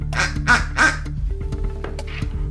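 A carrier pigeon sound effect gives three harsh, squawking bird calls in quick succession, then a fainter fourth call, over a steady tonal background hum.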